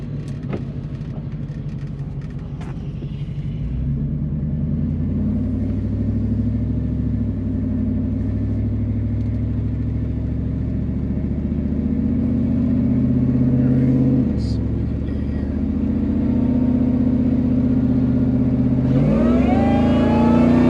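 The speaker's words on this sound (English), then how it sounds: "We'll just kind of take it easy for a second, get some temperature into the motor" A 2001 Ford Lightning pickup's V8 runs steadily while warming up, rising from a low idle to a held, higher rumble with a brief dip near the end and a sharp rev in the last seconds, close and alone.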